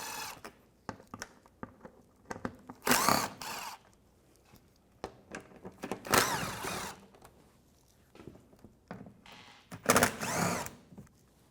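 A power drill with a socket removes bolts from the front bumper of a 2004-2010 BMW X3, sounding in three loud whirring bursts separated by quieter clicks and handling noises.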